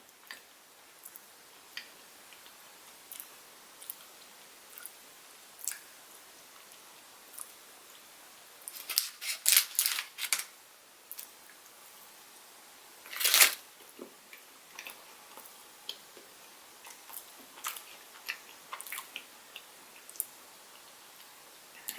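Someone chews a double chocolate dessert topped with fudge frosting and studded with chocolate chips, producing close, soft, irregular wet clicks and smacks with a few louder bursts, in an otherwise quiet room.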